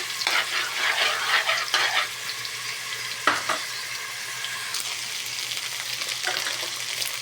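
Leftover rice with garlic stir-fries in a pan, a steady sizzle broken by sharp scraping strokes of a spatula, close and loud with no talk.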